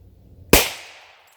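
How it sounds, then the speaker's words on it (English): A single sharp, loud gunshot from a Glock pistol fitted with a 6.5-inch KKM barrel, firing a .40 S&W round, cracks close by after a quiet moment and then decays in a short echoing tail. "I'm going to shoot 40 Smith & Wesson out of it."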